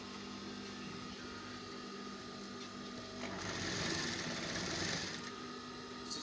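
A sewing machine stitches pieces onto canvas with a steady mechanical whir that briefly grows louder and busier midway before easing back.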